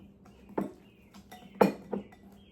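A utensil works Caesar dressing and clumps of Parmesan together in a bowl, giving a few separate clinks and scrapes against the bowl with quiet pauses between them.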